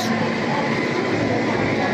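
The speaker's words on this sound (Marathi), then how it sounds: "इकडे ही समोर आली कोकण कन्या एक्सप्रेस" The Konkan Kanya Express passenger train rumbles steadily along a station platform, a loud continuous roar with a person speaking faintly underneath.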